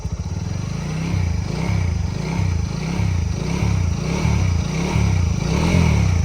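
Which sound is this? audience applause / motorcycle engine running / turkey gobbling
motorcycle engine running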